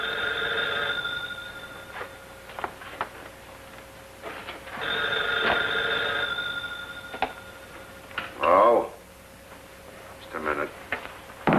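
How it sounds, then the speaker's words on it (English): An old-fashioned telephone bell rings in repeated bursts in a 1940s film scene, loud and near, with brief pauses between rings and a voice speaking over it. "Why don't you answer your phone?"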